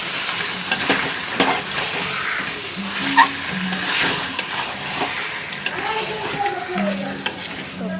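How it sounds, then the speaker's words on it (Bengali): Mutton stir-frying in a pan with onion, ginger paste and chili paste, a steady sizzle broken by scraping stirs and spatula taps, close and fairly loud with no talking. "তো এখন আমি সুন্দর করে কষিয়ে নেব, ঢাকা দিয়ে কষিয়ে নেব।"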